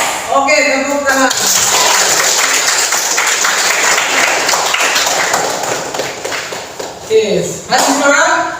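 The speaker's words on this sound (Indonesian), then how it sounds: "Oke, tepuk tangan." Classroom crowd of students at a vocational high school, SMK Negeri 1, bursting into loud, sustained hand clapping that fills most of the stretch, with voices talking over it at the start and end.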